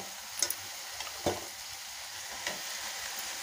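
Brinjal and potato fry with onion, tomato and garlic in a pan, giving a low, even sizzle marked by a few light spatula taps and stirring scrapes.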